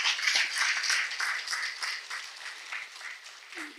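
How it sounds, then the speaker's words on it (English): Audience applause at a live Kenya Bankers wealth-building session with Prof. Ng'ang'a Gachara: dense, steady clapping from a crowd that carries throughout at moderate loudness and eases slightly toward the end. "We can give him another round of applause."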